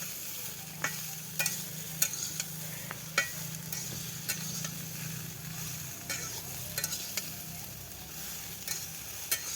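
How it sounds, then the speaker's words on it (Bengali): Steady sizzle of luffa gourd frying in oil, with repeated scraping strokes of a spoon stirring the pan up close. "একটু তেল বেশি করে দিয়ে প্রথম চান্সেই যদি তেলের উপরে ভালো করে নেড়ে নেওয়া যায়"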